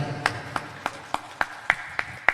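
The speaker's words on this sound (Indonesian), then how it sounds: "Tepuk tangan buat panitia." The crowd at an Islamic religious gathering in Indonesia claps for the event organizers. Distinct, evenly spaced claps ring out about three times a second, crisp and close, with a faint murmur beneath them.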